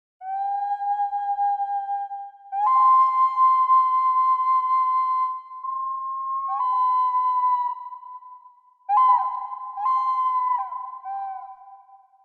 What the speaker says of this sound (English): Whistling vessel number 2.